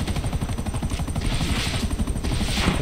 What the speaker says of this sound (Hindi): ओहो तीन हेलीकॉप्टर हमारा पीछा कर रहे हैं